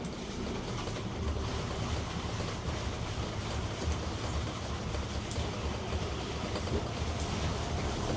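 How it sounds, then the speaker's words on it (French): Boat engines in Monaco idle after starting to warm up, giving a low, steady rumbling drone with watery wash that holds even and fairly close for the whole stretch. "On va démarrer les moteurs pour les laisser chauffer un peu et on va y aller."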